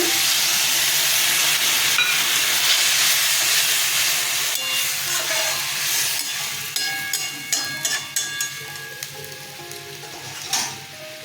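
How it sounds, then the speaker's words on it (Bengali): Water hits spiced vegetables frying in a pan for a vegetable chechki, bursting into a loud hiss and sizzle that settles into crackling pops and occasional clinks. "জল দিয়ে দিচ্ছি"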